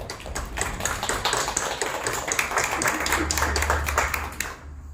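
A room of listeners applauds a guest speaker at a literary reading event, with crisp, fairly close hand claps sustained for several seconds before cutting off abruptly.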